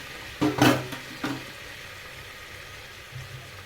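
Cumin and mustard seeds tipped into hot oil for pav bhaji in a pressure cooker, giving two short bursts of crackling sizzle close by, then fading to a low background hiss.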